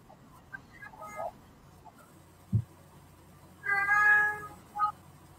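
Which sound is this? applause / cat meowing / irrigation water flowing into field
cat meowing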